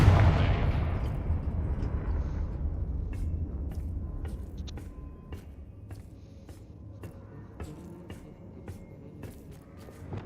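A Confringo blasting spell exploding in the Hogwarts Legacy video game, one heavy boom at the start that rolls off over several seconds, followed by a string of sharp clicks and ticks against a quiet background.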